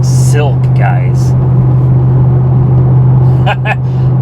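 Steady, loud road and engine drone from a Ford Mustang GT cruising on a highway at 65 mph, a constant low hum filling the whole stretch, with someone talking briefly over it near the start and end.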